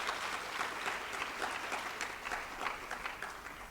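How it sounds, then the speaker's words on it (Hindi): Schoolchildren at a provincial sports meet clapping for themselves, a brief faint patter of scattered claps lasting a few seconds, somewhat distant and uneven. "अपने लिए ताली बजा लो सब,"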